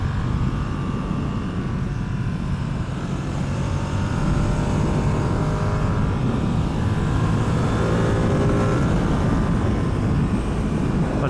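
A Ducati Streetfighter V2 motorcycle with a roughly 959 cc twin-cylinder engine revs hard, a loud continuous roar climbing in pitch through the gears, mixed with rushing wind noise close by.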